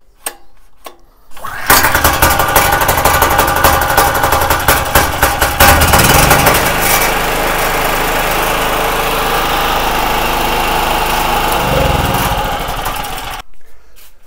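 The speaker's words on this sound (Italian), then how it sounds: "Tirate, si accende il motore, dopodiché lo riaccompagniamo nella sua sede." A GeoTech Pro GGP 3500 ES 3000 W generator is pull-started: a few quiet knocks, then the small engine catches with a loud sputtering roar, settles into a steady close hum and stops abruptly near the end.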